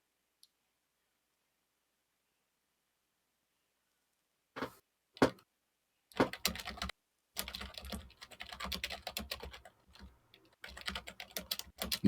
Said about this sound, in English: Typing moment.